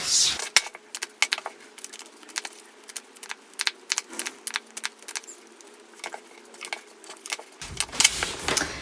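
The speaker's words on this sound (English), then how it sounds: "So let's shuffle the cards and see what comes through." Tarot cards are shuffled in quick, irregular bursts of soft slapping and riffling, close by, over a quiet background hum.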